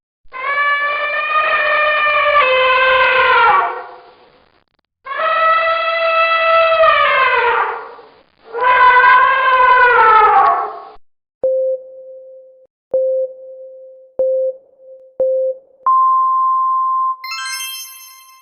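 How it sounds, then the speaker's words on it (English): Three long, loud elephant trumpeting blasts, strongly harmonic and falling at the end, followed by a few short tonal beeps and a rising electronic chime. "An elephant."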